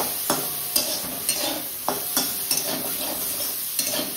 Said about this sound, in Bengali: এই দেখো বেগুন ভাজা হচ্ছে